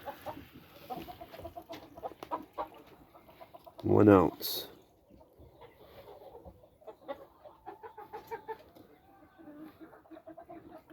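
Chickens clucking steadily at feeding time during off-grid morning chores, a flock of soft, scattered clucks close by with one loud squawking burst partway through, under a man's brief speech.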